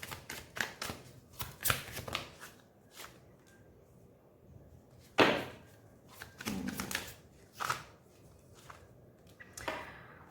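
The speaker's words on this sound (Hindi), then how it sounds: "मैं एक बार कार्ड्स निकाल लेती हूँ, उसके बाद मैं बता दूंगी कि कौन से कार्ड्स आए हैं।" Tarot cards being shuffled and drawn by hand, a series of quick papery riffles and slaps in irregular bursts, close and fairly quiet, with a sharper snap near the middle.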